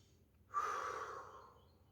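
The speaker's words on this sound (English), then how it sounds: "Breathe." One slow, deep breath drawn in through the nose swells quickly and then trails off over about a second and a half, soft and close in an otherwise quiet room, with no talking.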